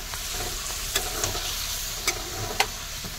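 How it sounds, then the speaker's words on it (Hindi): Chicken frying in a pan with mixed masala, crushed garlic and green chili, a steady hiss of oil with a few sharp clicks of stirring, no talk. "तो चलिए ठीक है दोस्तों डाल देते हैं इसको और मसाला के साथ में भूनते हैं चिकन को।"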